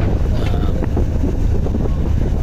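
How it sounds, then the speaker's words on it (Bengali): The passenger launch MV Captain cruises at a fair pace on a river between Charmonai and Dhaka, with a steady, loud, continuous engine rumble and wind buffeting the microphone throughout. "আমাদের এমভি ক্যাপ্টেন মোটামুটি ভালো গতি দিয়ে এগাচ্ছে"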